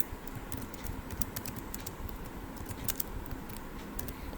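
Rapid, irregular keystrokes on a computer keyboard while an email body is typed, a steady close clatter of light clicks under a low background hum.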